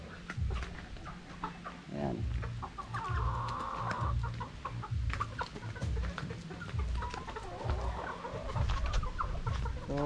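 Freshly vaccinated chickens, 5K Sweater gamefowl, released onto an outdoor range, cluck and murmur in a steady nearby chorus with occasional louder squawks.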